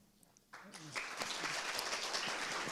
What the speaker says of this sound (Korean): 이제 큰 무대로 큰 박수로 서울대학교 지속가능발전연구소의 정혜진 연구교수님을 무대 위로 모시겠습니다